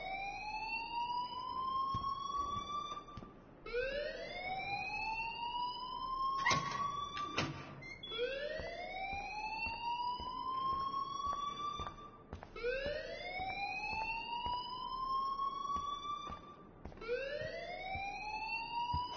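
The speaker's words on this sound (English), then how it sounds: "please turn off that alarm since that's your job." A video game alarm wails continuously as a rising electronic siren that sweeps upward again every few seconds, steady and moderately loud, with a couple of sharp thumps partway through.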